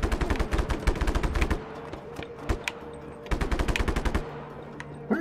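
Rapid machine-gun fire crackles in dense bursts at the player in the video game Just Cause 3, loud and close, with a brief lull and single shots before another volley.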